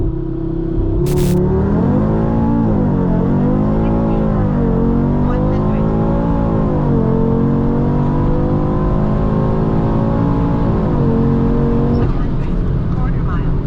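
A facelifted Audi RS3 8Y accelerating hard on a timed run, heard from inside the car. The loud, continuous engine roar climbs through the revs with brief dips at the gear shifts, and a voice talks over it.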